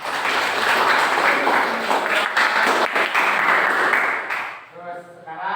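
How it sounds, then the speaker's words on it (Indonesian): Classroom students applaud together, a dense burst of clapping lasting several seconds that tapers off into a voice speaking. "Silakan kasih tepuk tangan."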